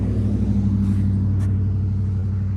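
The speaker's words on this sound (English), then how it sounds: "Let that car go by." A car passes along the road beside a home garden on a fall morning, its steady low rumble holding throughout at moderate distance with no talk over it.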